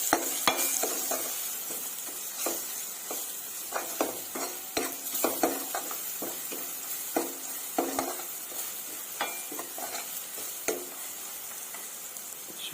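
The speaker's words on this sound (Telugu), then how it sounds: "ఇలా బాగా ఆయిల్లో ఫ్రై చేసుకుందామండి" Egg curry frying in oil with salt, turmeric and chili powder, stirred with a spoon: repeated scraping clicks and knocks over a steady soft sizzle, close by with no talking.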